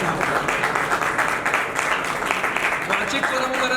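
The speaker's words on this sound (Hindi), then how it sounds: "तालियां बजा दीजिए।" An audience claps steadily at a live Hindi poetry and comedy show at La Vie En Rose. The applause is dense and continuous, with voices mixed in.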